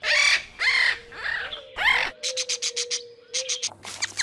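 A parrot lets out a series of harsh, raspy squawks, several long cries followed by quicker repeated calls, loud and close with nothing else heard around them.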